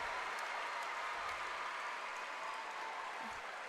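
A home crowd at a college women's gymnastics meet applauds and cheers on its feet after a floor routine, a loud, sustained wash of clapping that fills the space without pause.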